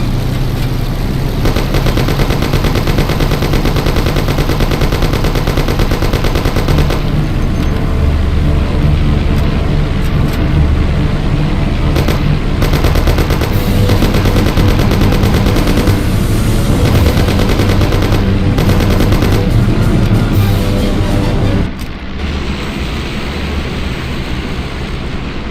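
Sustained heavy gunfire in the video game Mafia (2002): loud, continuous automatic bursts layered over a droning engine, running almost nonstop before cutting to a quieter tail near the end.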